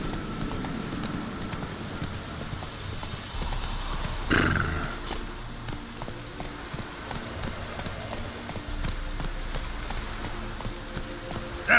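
Horse galloping through rain in The Witcher 3, a steady clip-clop of hooves under a constant hiss of rainfall, with a brief louder burst midway.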